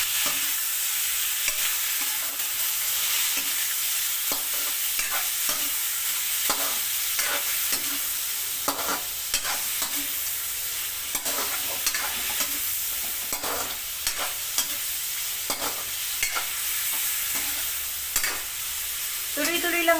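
Chicken stirred and fried in a pan until brown, a loud close sizzle broken by frequent scraping stirs in an uneven rhythm, with no voices.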